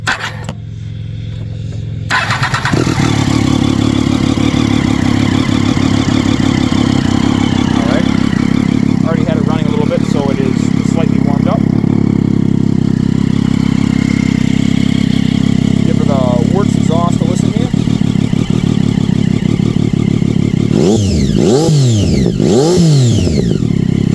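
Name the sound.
2011 Triumph Daytona 675R motorcycle starting and idling, Werkes exhaust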